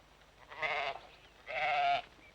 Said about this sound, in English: A ewe and its lamb engage in a frequent exchange of bleating, much like domestic sheep